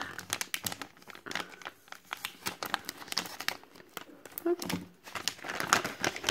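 A small plastic sachet is crinkled and torn open with several sharp rustling bursts, close and moderately quiet, and a voice speaks between them.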